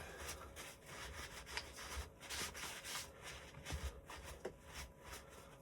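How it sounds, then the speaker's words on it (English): A cloth is rubbed back and forth over a 1/8-scale nitro RC buggy to wipe off grime, a faint, close, rhythmic scrubbing with short quick strokes and no speech. "I'm gonna give that a bit of a wipe first before I do anything."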